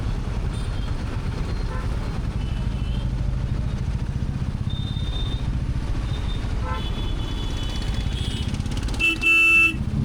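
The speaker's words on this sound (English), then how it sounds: "Crazy traffic." Heavy city road traffic heard from a Royal Enfield Meteor 350, a constant engine and road rumble with several horn toots scattered through and a louder honk near the end.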